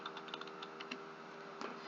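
Quiet, rapid typing on a computer keyboard, a patter of light key clicks over a steady background hiss, with no talking.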